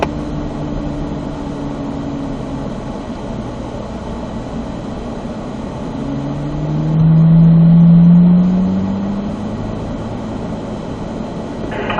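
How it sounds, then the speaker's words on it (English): Corvette Z06 cars roll onto a race track in a steady engine drone that swells louder midway as a car passes close, then eases back to a continuous hum. "Let's go ahead and upshift those cars into 3rd gear on our entrance."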